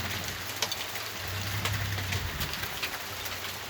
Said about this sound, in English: It's actually hail, isn't it?